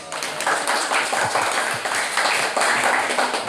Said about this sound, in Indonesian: Mohon monggo tepuk tangannya teman-teman.